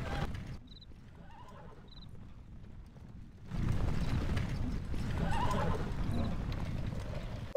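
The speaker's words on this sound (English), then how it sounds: "Watch out for horses!" In the video game The Lord of the Rings: The Battle for Middle-earth II, faint horse neighs are followed by a surge of rumbling hoofbeats and clattering, with shouts mixed into the dense battle noise.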